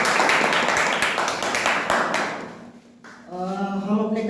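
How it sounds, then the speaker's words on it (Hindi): An audience at the Bharat Rang Mahotsav theatre festival claps for the actors after a short play: dense, steady applause for about two and a half seconds that fades out before a voice starts speaking. "एक जोरदार ताली हमारे कलाकारों के लिए।"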